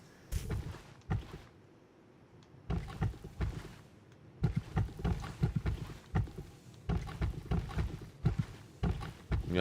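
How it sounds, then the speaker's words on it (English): Outdoor wind buffets the microphone in irregular low rumbling gusts, rising and falling with short calmer gaps between the stronger bursts. "the wind is winding again. Very unfortunate. It's like picking up right now."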